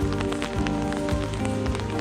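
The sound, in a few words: heavy rain falling on garden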